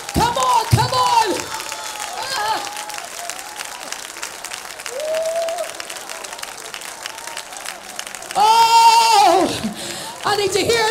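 A church congregation at an Ohio prayer day service claps hands steadily and fast through the whole stretch, with a preacher's voice and singing carrying over the dense rhythmic claps.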